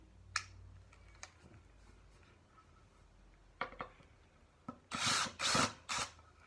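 A handheld power screwdriver runs in reverse to back a screw out, giving a cluster of short, loud whirring bursts near the end after a few faint clicks and handling taps.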